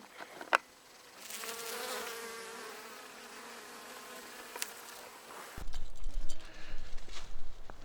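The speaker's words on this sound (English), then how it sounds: "I thought this is interesting to have the honeybee, the native bee, and also the bumblebee." Honeybees, native bees and bumblebees buzzing around hives on a homestead, a steady close drone with a few louder fly-bys and a sharp tick early on, then a rougher rumbling patch near the end.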